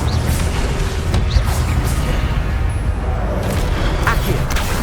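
A loud, roaring burst of spell fire from the Incendio spell in Hogwarts Legacy, a dense rumbling blaze with crackling pops and flares running steadily for several seconds.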